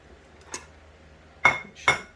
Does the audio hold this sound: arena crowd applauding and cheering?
no